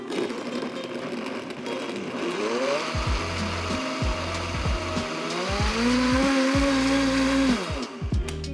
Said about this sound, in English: We're gonna blend this up.